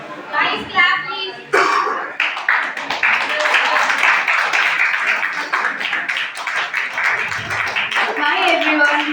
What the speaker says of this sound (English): Clap everyone, please.